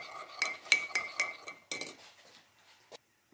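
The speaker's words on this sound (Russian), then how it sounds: "Теперь все это перемешиваем." Spoon clinking and scraping against a bowl while stirring grated carrot salad with two spoonfuls of sugar and citric acid for Korean-style carrots; a quick run of close, bright metallic clinks, then a pause and one last tap.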